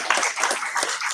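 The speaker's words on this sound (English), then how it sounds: "Round of applause again." A brief round of clapping from an audience after a presentation at a gathering, with quick uneven claps from a few hands close by.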